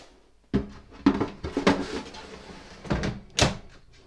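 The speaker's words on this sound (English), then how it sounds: "Let's get the drawer in." The drawer of a Cosori TwinFry air fryer loaded with pork slides into place, a sequence of close scraping clunks and knocks ending in a firm final thud.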